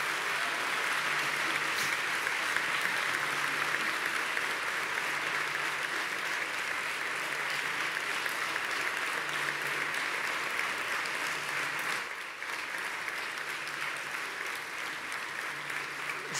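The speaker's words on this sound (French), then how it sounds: "Je crois que c'est des applaudissements très mérités." Steady, sustained audience applause after a talk about soil life fills the whole stretch at an even level, dipping slightly near the end but continuing without pause.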